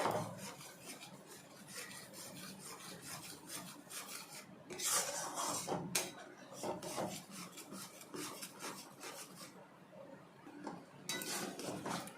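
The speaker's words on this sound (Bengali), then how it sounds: "এই অবস্থায় কিন্তু ভালোভাবে নাড়তে হবে, নালে দুধটা তলায় লেগে যাবে।" A spoon steadily scrapes and stirs thickening milk in a pan while making carrot sandesh, a continuous soft rasping rub with occasional clinks against the metal, close and quiet.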